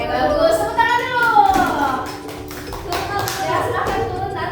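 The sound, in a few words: children clapping hands in a classroom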